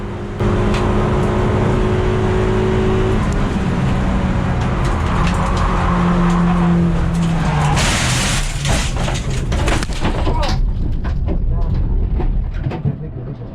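Toyota Yaris race car at speed on the Oulton Park circuit, a loud steady engine roar with shifting pitch, then a burst of tyre and rushing noise as the car snaps into lift-off oversteer, continuing loud to the end.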